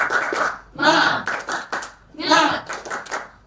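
A group performs a rhythmic spirit clap, with bursts of hand claps in a repeating pattern, close and fairly loud, mixed with voices chanting together between the claps.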